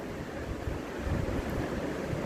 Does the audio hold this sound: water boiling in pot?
yes